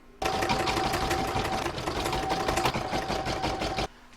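An embroidery machine stitches black thread for the eyes and mouth of a snowman coaster design, a rapid, even mechanical chatter of needle strokes running steadily for nearly four seconds before stopping abruptly.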